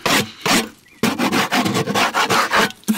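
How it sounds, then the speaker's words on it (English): An old wooden beehive box being scraped clean of moths and debris: loud, close, rasping strokes repeated in a fast uneven rhythm, with a short pause early on. "we get our old box and we scrape all the moths and crap out of it"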